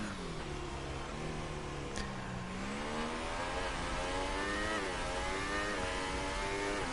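Toro Rosso Formula 1 car in a racing video game at Brazil, its high engine note climbing and shifting through gears steadily at full push on soft tyres, loud and continuous.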